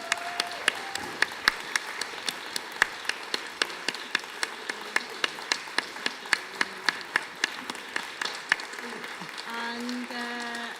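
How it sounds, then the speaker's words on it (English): Audience at a queer community book event applauding, a steady run of sharp separate claps over several seconds, moderately loud, with a few faint voices in the background near the end. "So just another round of applause to say a big thank"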